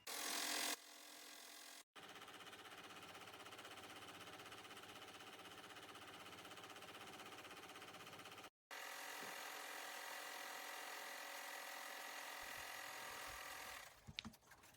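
An embroidery machine stitching a design onto a hat, a steady continuous high-speed mechanical whir that runs the whole time with two very brief pauses, close and even in level, no voices.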